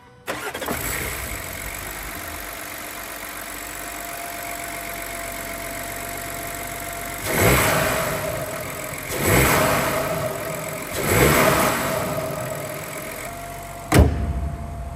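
A 2025 Audi A6 Avant with a 367-horsepower 3.0 TFSI V6 petrol engine starts up and settles into a steady idle, then gives three loud revs and a final short blip, heard close and alone.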